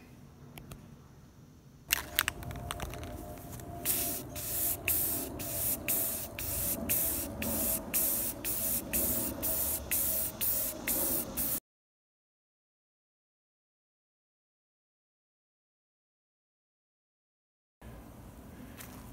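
An aerosol spray can paints a guitar body white, hissing in repeated short bursts close by for about ten seconds, followed by complete silence and then faint room noise.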